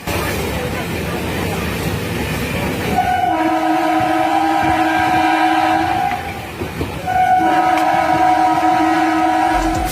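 A passenger train at a station sounds two long, loud horn blasts, one after the other, over steady rumbling platform and engine noise.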